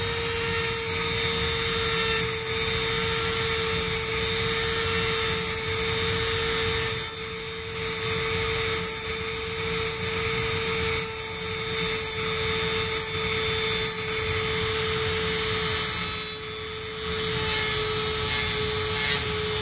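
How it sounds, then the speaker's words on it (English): A Dremel rotary tool fitted with an HSS bit whines steadily while smoothing deep scratches in a carved wooden dragon walking stick, its motor hum broken by repeated short bursts of grinding as the bit bites into the wood. "So using the Dremel and an HSS bit, I'm just going to try and get out some of these deeper scratches."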